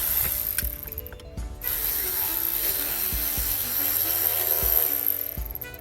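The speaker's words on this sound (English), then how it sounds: "First, remove the lower steering column 3 screws." Ratcheting tool backing out the three lower steering column screws on a Ford F150, giving repeated close mechanical clicking strokes in short bursts over a steady background hum, without speech.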